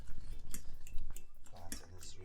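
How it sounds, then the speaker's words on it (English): Soft boiled plantain is crushed by hand with a utensil, giving close, moist squelching and mashing sounds broken by light clicks and taps against the bowl, repeating irregularly throughout. "I'm crushing my plantain now."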